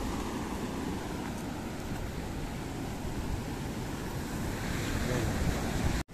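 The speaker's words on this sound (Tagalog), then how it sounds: "Ito yung dagat sa kabila mo." Steady surf washes onto a white sand beach, a continuous broadband rush of breaking waves mixed with wind buffeting the microphone, even and unbroken until an abrupt cut near the end.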